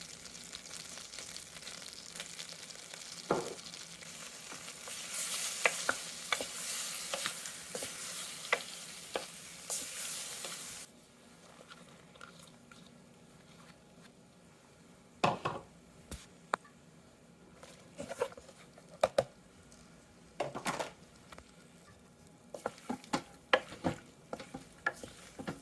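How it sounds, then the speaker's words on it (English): Beef fries with garlic, cilantro and basil in a pan, a steady close sizzle under repeated scraping stirs and clinks of a utensil; the sizzle drops off midway, leaving intermittent stirring scrapes without talk. "As you see, the beef is cooking rather nicely."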